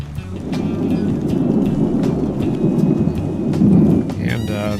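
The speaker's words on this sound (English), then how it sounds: "we've got a little bit of thunderstorm activity where we're at" Low thunder from a thunderstorm rumbles continuously, swelling toward the end, with rain pattering over it and a few faint clicks and bumps close by.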